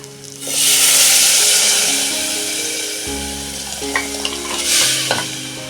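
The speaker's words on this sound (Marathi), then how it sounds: "आता मी फोडणी देते हे बघा" Spices tempering in hot oil for misal: a loud, steady sizzle that bursts in suddenly and keeps crackling throughout, with occasional faint clinks and no talking.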